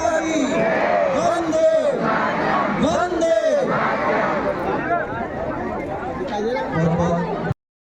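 A large fair-like crowd chatters and calls out across a wide open ground at a school dance performance event, a dense, continuous babble of many voices near and far.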